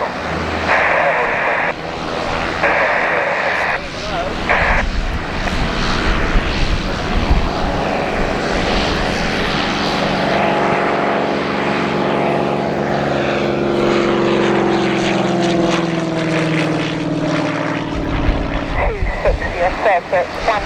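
A fixed-wing propeller aircraft takes off from runway 08 at Gloucester Airport, its engine a steady loud drone through the whole span with a rising pitch sweep as it climbs away, while radio-style voices talk over it.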